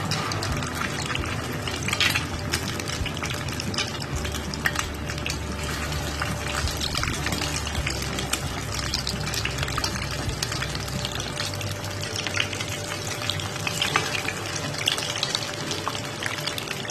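Potato chops (aloo chap) frying in oil in a kadai over low flame, a steady dense sizzle and crackle running continuously for the whole stretch with no talking.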